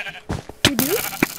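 A sheep bleats in a video game, a wavering nasal cry in the middle of the clip with other short game noises and clicks around it, fairly loud and close.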